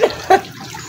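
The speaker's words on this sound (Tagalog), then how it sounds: "Dito po tayo sa bukal na tubig." Water from a natural spring bubbles and splashes nearby in two short bursts, then settles into a soft, steady trickle.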